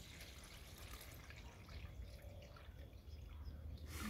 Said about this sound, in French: là je mets donc de l'eau